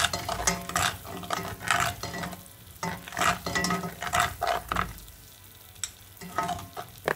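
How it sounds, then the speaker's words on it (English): Homemade caramel sauce being stirred in a pan, with repeated scraping strokes of the spoon over a soft sizzle, steady and close with no talking. "You just want to continue to stir it, okay, so it doesn't stick"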